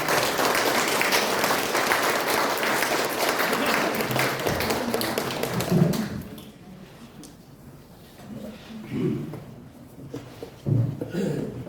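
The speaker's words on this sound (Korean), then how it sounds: "강사님 나오실 때 여러분 큰 박수로 환영해 주시고" An audience at a company anniversary lecture in Korea gives a loud, sustained round of applause welcoming a pastor to the stage, fading after about six seconds into quieter room noise with scattered shuffles and murmurs.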